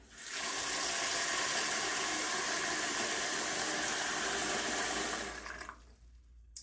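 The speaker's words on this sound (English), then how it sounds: "I'll just add a bit more water" Water pours steadily into a pot of British wool being scoured for natural dyeing, a loud continuous gush for about five seconds that tapers and stops near the end.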